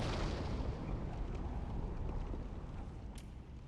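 Fireball spell free-cast in Dark Souls 3, a continuous rumbling whoosh of flame with a roaring low-frequency body that fades slightly, plus a faint sharp blip near the end; no voices.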